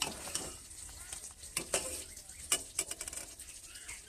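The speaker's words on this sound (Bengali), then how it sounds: "প্রথমেই আমি এই যে পায়েসটা রান্না করছি পায়েস রান্না করে নিচ্ছি" Payesh, a milk and rice pudding, cooking on a gas stove and being stirred, with soft repeated scraping and light clinks of a ladle against the pot over a faint bubbling hiss, fairly quiet.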